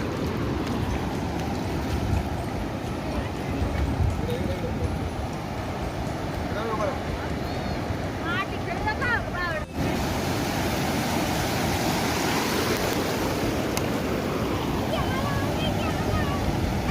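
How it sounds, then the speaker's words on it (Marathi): Sea waves wash onto a beach shore in a continuous, rushing roar mixed with wind buffeting, while faint voices carry in the background. "बघा किती सुंदर असं समुद्र किनारा आहे."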